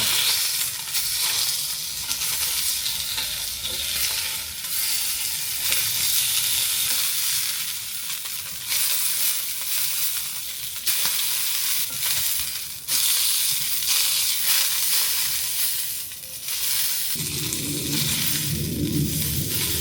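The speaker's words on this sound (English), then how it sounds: "I'm just gonna chuck the salmon in the same pot" Salmon fries in a pot with a continuous, close sizzle and crackle, occasional stirring scrapes breaking through the steady hiss, with no talking for the whole stretch.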